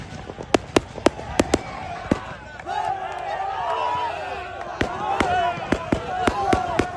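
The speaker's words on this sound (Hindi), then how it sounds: "इस मौके पर आतिशबाजी का खूबसूरत मुजाहरा भी किया गया।" Sharp firework bangs pop in irregular bursts at a cricket tournament celebration in Italy, with crowd chatter and cheering swelling in the middle stretch between volleys.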